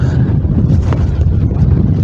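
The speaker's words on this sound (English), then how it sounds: "it's still a bit windy" Loud, close wind buffeting a microphone at a Peak District wild camp, a continuous low roar with gusty rumble throughout and no voices.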